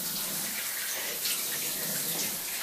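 Water runs steadily from a tap at a guesthouse in Sasca Montana, a constant hissing rush that stays even and moderately close for the whole stretch, with no talk over it.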